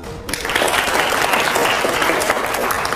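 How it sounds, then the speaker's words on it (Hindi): Loud, vigorous audience applause at a public political question session, a thick steady clatter of many hands that begins abruptly and holds throughout. "अगले सवाल के लिए जोरदार तालियां हो जाए जरा"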